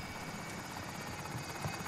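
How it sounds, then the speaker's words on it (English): Helicopter rotor whirring steadily in the video game Warzone during a multiplayer match, a continuous, fairly loud drone with a rhythmic chop throughout. "this damn helicopter. No, the helicopter."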